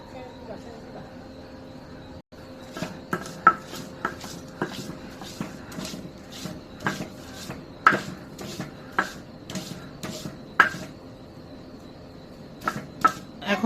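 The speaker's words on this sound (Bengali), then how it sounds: "এখন এই যে পেঁয়াজ বাটবো।" Onion is ground by hand on a grinding stone, a steady series of sharp scraping and knocking strokes in an irregular rhythm, fairly close, with soft household background.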